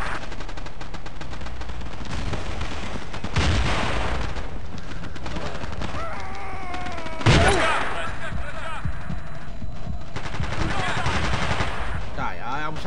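Automatic RPK machine gun fire in Battlefield 2 during a 20 vs 20 town battle, dense rattling bursts and booming shots throughout with other gunfire and explosions, under a speaking voice.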